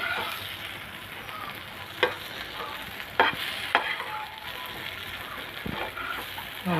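Yam pieces fry in a pan with a steady, moderate sizzle, punctuated by several sharp clicks and taps of a utensil against the pan.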